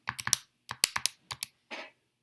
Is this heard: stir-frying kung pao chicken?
no